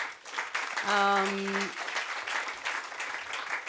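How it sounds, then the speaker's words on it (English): Applause at a conference closing session for the board, field advisors and team, fairly soft and spread across the room, with a brief tonal voice or sound rising above it early on. "they deserve a huge round of applause"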